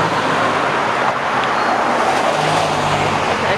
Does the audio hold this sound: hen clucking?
no